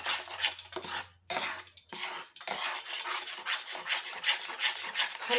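A spoon scrapes and rubs steadily through Mysore pak mixture of flour and ghee in syrup, cooking in a pan over a very low flame, in close repeated strokes with a few brief pauses.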